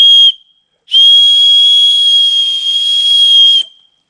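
Small survival whistle blown outdoors at a camping site, a short shrill blast followed by a pause and then one long piercing sustained blast, loud and close.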